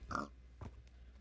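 A pig in Minecraft gives a short oink, then a couple of fainter grunts follow after a pause, heard alone and fairly close.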